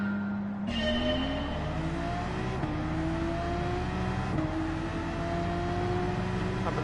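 Race cars roaring through a Gran Turismo 7 online race, engines loud and continuous with rising pitch as they accelerate through gear changes, several cars droning together up close.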